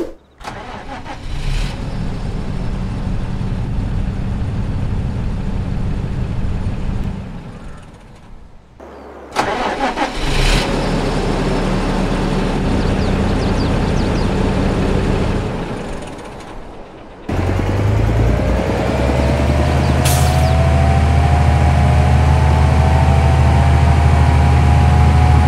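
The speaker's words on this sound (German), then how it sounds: "Wir werden erstmal einen Soundcheck machen, weil ich dann während der IC-Funktionsprüfung natürlich den Motor laufen lasse." Fendt 700 Vario tractor engine in a farming simulator game, heard in three segments of loud, steady low-frequency engine running with start-up bursts, the last segment holding a rising whine as the engine note climbs.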